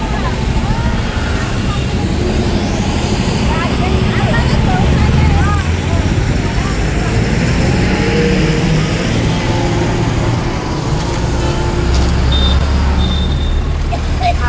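A bus rumbles along with passing road traffic on the way to Ranjangaon, a loud continuous roar of engines and tyres with brief higher whines and hisses, while people talk over it.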